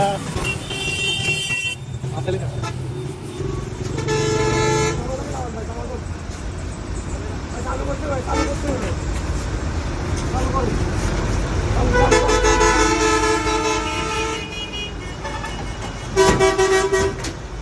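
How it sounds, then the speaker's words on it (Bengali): A parcel bus pulls up on a jammed road at night, its horn tooting in several long blasts over heavy traffic rumble, with other vehicle horns and people talking around it. "আমাদের পার্সেলের বাস এসে পড়ছে।"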